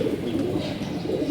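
Racing pigeons of old-blood stock coo softly in a loft, a continuous low murmur of overlapping coos and faint chirps close by, with no talk.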